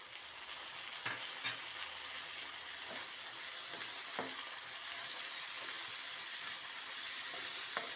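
Onions, curry leaves and tomato fry in a pan with a steady, soft sizzle, and a few faint stirring taps come through at irregular moments.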